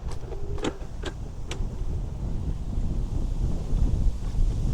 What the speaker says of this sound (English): that's a cold wind